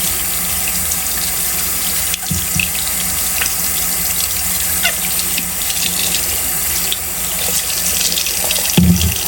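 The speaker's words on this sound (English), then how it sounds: "So I'm just gonna rinse that off." Running tap water rinses soap out of a makeup brush at a sink, a steady close gush of flowing water with a few brief splashes and knocks.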